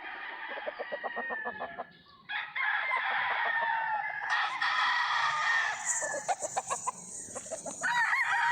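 A young gamecock (stag) crows loudly and close by, with several drawn-out calls in a row. Other farmyard fowl cluck and call in the background.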